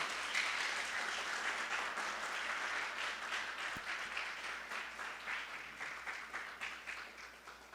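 Audience applause welcoming the team captains of Lycée Alexandre Pétion and Collège Frantz Paillère at a school quiz show, sustained moderate clapping from a crowd that thins into a looser, rhythmic patter toward the end.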